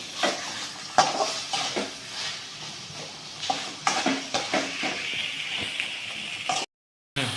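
Boiled beef intestines being stirred into tomato masala in a pan, with repeated scraping and clanking of a spoon against metal over a soft background sizzle, close and fairly loud, with no talk.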